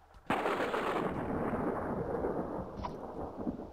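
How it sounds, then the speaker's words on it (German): A lightning bolt strikes in a Christmas-themed video game level, a sudden sharp crack followed by a long rumbling roar that slowly fades over several seconds. "Schade, der Blitz hat die Superbatterie nicht getroffen."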